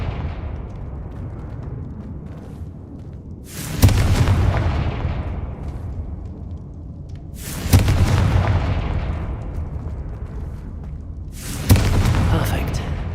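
Confringo blasting spell explosions in the video game Hogwarts Legacy, three loud sharp booms spaced about four seconds apart, each decaying into a rumbling tail over a low steady background.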